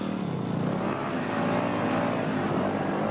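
A Husaberg dirt bike's engine drones loud and steady, revving as the throttle is wound on while the rear wheel digs and sinks into soft ground, with no voices over it.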